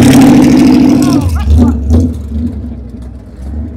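A vintage small-block Chevrolet truck at an outdoor car show rumbles loudly up close with a throaty engine note that swells and settles, while people talk over it.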